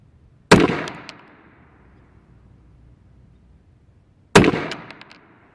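Two sharp, loud pistol shots from an AMT Auto Mag II .22 Magnum, several seconds apart, each ringing out briefly outdoors with no talk between them.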